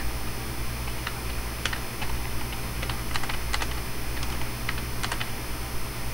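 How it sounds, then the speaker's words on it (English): Steady typing on a computer keyboard, keys struck at an angle in quick irregular bursts of close, crisp clicks over a constant low electrical hum, with no one talking. "Typing at an angle is terrible."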